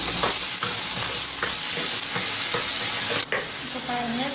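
Tomatoes fry in a hot pan while being stirred for a Tamil village-style vatha kuzhambu, a loud dense sizzle broken by rhythmic scraping strokes of the spoon, close up and with no talk.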